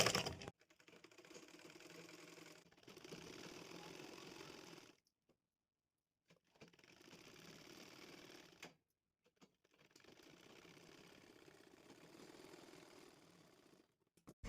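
Sewing machine stitching the sleeve of a blouse, running in three sustained bursts separated by short pauses, steady and fairly close with no talking.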